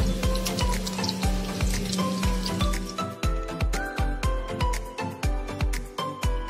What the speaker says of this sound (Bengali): কড়াইতে তেল দিয়ে চিকেনের পিসেসগুলো ভেজে নেব।